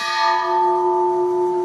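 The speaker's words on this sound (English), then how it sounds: "Usually a village bell is rung to announce Sa." A village bell in American Samoa rung for evening prayer, a single struck peal ringing out loud with a long, steady resonant hum that sustains and slowly fades.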